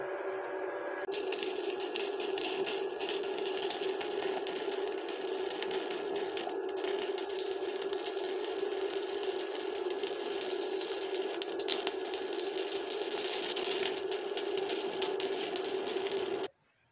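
Arc welding thin metal at 55 amps: a steady close crackling hiss that runs unbroken for about sixteen seconds and then cuts off abruptly, with no voices.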